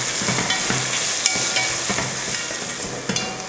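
Chopped large onions sautéing in a pan give a close, steady sizzle with scraping spatula strokes and a couple of sharp clinks, with no talking.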